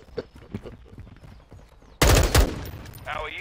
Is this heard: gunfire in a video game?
yes